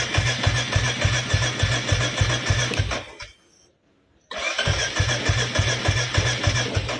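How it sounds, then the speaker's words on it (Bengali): Royal Enfield Classic 350 BS6 motorcycle's electric self-starter cranking in two bursts of steady rhythmic whirring separated by a brief silence, never catching; loud and close. "সেলফ আমি কিন্তু 2-3 বার দিলাম, কিছুতেই স্টার্ট হচ্ছে না"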